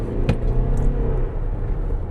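A 2026 Toyota RAV4 hybrid accelerates with a low, steady, subdued rumble and a faint whir throughout, heard from inside the cabin with no talking.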